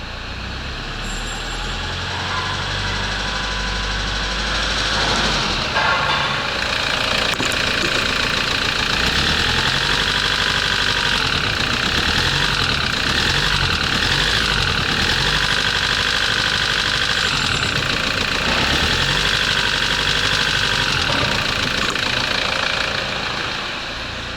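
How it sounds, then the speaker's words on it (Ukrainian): A Toyota Prado D4D diesel engine with 188 thousand on the clock idles steadily up close, a continuous rumbling drone with a rapid internal knocking rhythm running through it the whole time. "і маємо такий стучок в двигуні"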